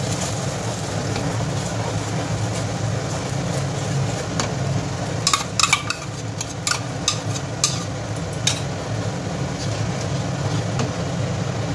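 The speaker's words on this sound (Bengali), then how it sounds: "এই মশলাটাকে তেল ছাড়া পর্যন্ত এইভাবে সমানে কষিয়ে নেব" Spice paste fries in hot oil in a pan, giving a steady low sizzle with a series of sharp scraping and tapping strokes from continuous stirring midway; no talk.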